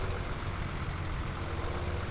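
A tractor engine in the Farming Simulator video game drones with a steady, low rumble at moderate level, continuous and unchanging throughout, with no talk over it.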